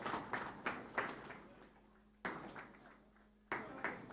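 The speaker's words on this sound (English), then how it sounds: "Can we have a round of applause, ladies and gentlemen?" A small audience at an airport launch ceremony gives quiet, scattered applause in short bursts, with brief lulls in between.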